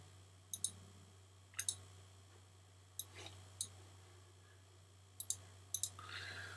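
A computer mouse clicks on a web page button in a quiet room, giving several faint, sharp paired clicks spaced a second or more apart over a low steady hum.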